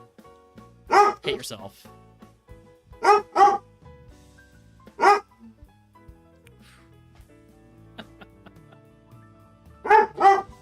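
A pet dog barks in several sharp bursts spread over a few seconds, fairly close and loud, while a person speaks a few words between the barks.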